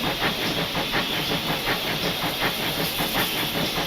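Steam hiss from a GWR pannier tank locomotive on the Falmouth branch in Train Simulator Classic, a steady broadband rush with a rhythmic chuffing pulse underneath, loud and continuous with no talk.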